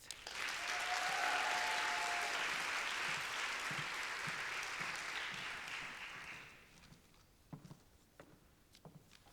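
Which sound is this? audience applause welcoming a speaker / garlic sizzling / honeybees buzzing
audience applause welcoming a speaker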